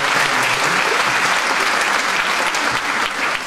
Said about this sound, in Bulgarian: Моля вашите аплодисменти за него.